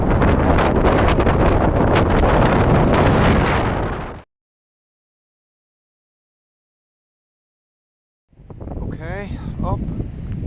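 Strong gusting wind buffets the microphone on a stormy coastal walk, a loud roaring rumble that suddenly cuts out to silence for several seconds, then returns more faintly with wind noise and some talk.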